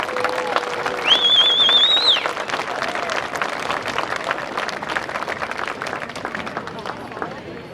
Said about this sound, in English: Please give a final round of applause for our senior football players and their parents.